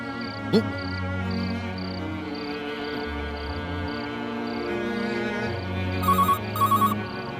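A phone rings unanswered in repeated bursts against a steady drone of crickets and background noise, with a faint sharp click early on.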